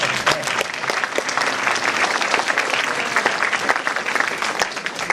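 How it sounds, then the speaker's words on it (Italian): Theatre audience at a performance of Eduardo Scarpetta's comedy L'amico 'e papà in Rocca San Felice bursts into sustained, dense clapping, steady and fairly close for several seconds with no speech over it. "Forza, un altro applauso."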